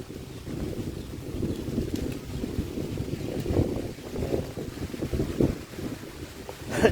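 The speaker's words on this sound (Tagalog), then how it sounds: "Hindi ba lakas ng hangin?" Steady wind buffets the microphone in low rumbling gusts, loud and continuous, with a slightly stronger burst at the very end.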